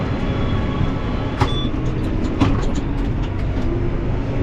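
A farm tractor pulling a wagon rumbles along with a continuous low engine drone and road noise, broken by a couple of sharp rattling clanks.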